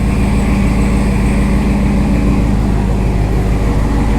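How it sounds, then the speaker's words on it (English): A RAM 1500 pickup with a swapped-in Hellcat engine runs through its exhaust, a loud, deep and steady rumble heard close up, constant throughout with no talk. "This thing sounds so good with that exhaust"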